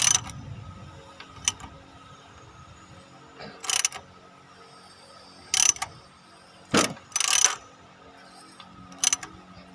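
Clicks and ratcheting mechanical clatter from turning the crankshaft of a Proton Wira engine by hand during a water pump replacement, coming as scattered sharp bursts separated by pauses, close up and fairly quiet.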